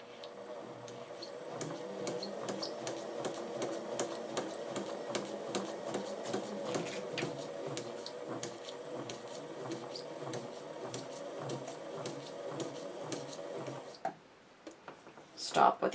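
A sewing machine stitches in a seventh-grade machine-control class, with rapid even ticking of the needle running steadily for about fourteen seconds, then stopping. A few clunks follow, and a voice speaks near the end.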